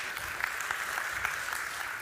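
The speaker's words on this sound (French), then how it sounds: "Merci, on l'applaudit ensemble." A congregation at a preaching event claps together, a fairly quiet, even patter of many hands with slight rhythmic swells.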